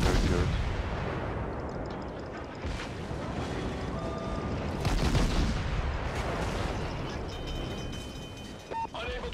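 Naval guns fire in the World of Warships game around the destroyer Novik, with loud booming salvos and rumbling blasts layered over continuous engine and sea noise.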